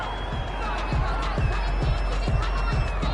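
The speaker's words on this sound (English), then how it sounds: "This home crowd, they're happy with that call." A home crowd in a PS4 American football game cheers a fourth-down call, a steady roar under rhythmic thumping footsteps, with talk over it.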